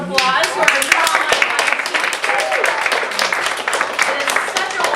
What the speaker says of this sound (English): Let's give a round of applause for our drama.